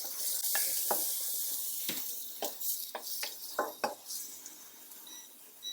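Chopped onion hitting a hot pan, with a broad sizzle that fades slowly, overlaid by sharp metallic clinks and scrapes of a utensil against cookware at irregular intervals, fairly quiet and without talk.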